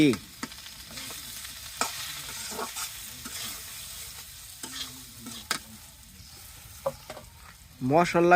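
Masala spices fry in hot oil for a curry while a utensil stirs and scrapes the pan, making sharp intermittent clinks over a low sizzle, with a louder burst of activity at the end.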